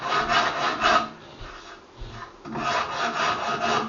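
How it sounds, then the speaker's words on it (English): A rasp files along a wooden gun stock in long strokes, two bursts of rough scraping separated by a quieter pause, close and alone with no talk. "you can do this with any rasp, not just the Shinto rasp"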